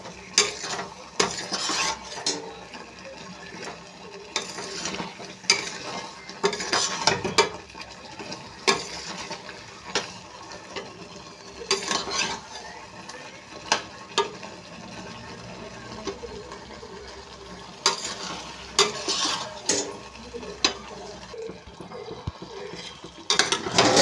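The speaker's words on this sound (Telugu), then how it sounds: "ఇలా కలుపుతూనే ఉండాలండి, మొత్తం చిరిగిపోకుండా ముక్కతో." A spoon stirs curry with peanuts in a pan, scraping and clinking in bursts over a soft sizzle, close by, with no talking.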